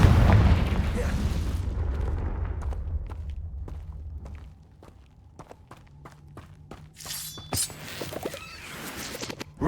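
A Confringo blasting spell goes off in the video game Hogwarts Legacy, a loud low boom that rumbles and fades over several seconds, followed by scattered light taps and clicks.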